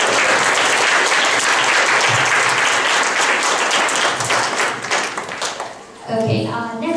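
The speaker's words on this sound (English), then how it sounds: "Please give yourselves a round of applause for that." Audience applause at a vocabulary bee event, dense sustained clapping for about six seconds that thins out, followed by a voice speaking at the end.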